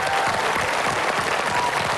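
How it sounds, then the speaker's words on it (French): A studio audience at a French television game show applauds the blue team with steady, close clapping that fills the whole moment without a break. "quelques applaudissements pour l'équipe bleue"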